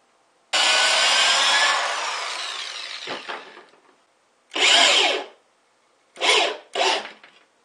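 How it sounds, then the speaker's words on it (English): A power drill whines loudly as it drives a screw into wood, slowing and stopping, followed by three shorter bursts of drilling. "then we can just drill the other one"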